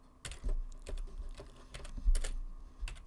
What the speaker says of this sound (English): and typing in a title.